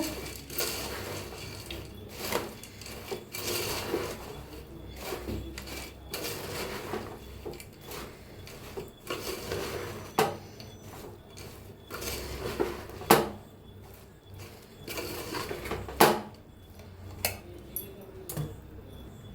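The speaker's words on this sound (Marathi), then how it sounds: "आता बंद करूया गॅस आणि हे मिक्स करून घेऊया छान असं मिक्स करायचं बघा पाकात" Boondi being stirred into hot sugar syrup in a pot with the gas off, heard as irregular clinks and scrapes of a spoon against the metal pot with soft wet stirring, moderately close and steady, with no talk over it.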